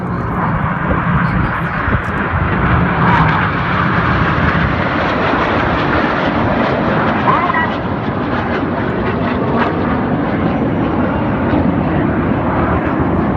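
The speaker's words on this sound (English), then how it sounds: "So the 5 aircraft of Enid fan out at the top." Red Arrows jets at a seaside air festival display roar steadily and loudly overhead as a continuous broad engine rumble, with an announcer talking over the noise throughout.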